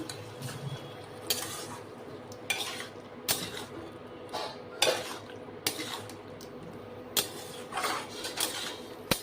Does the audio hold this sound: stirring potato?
yes